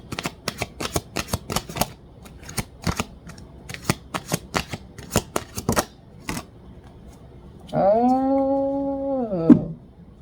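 Tarot cards are riffled and shuffled in quick bursts of crisp, close flicks for about seven seconds, followed by a short cat-like meow near the end.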